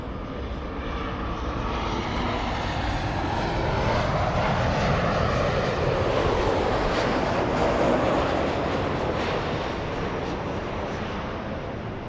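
Lufthansa heavy jet taking off from runway 24 left at LAX, a loud sustained engine roar that swells toward the middle and holds steady with broadband rumble, no voices.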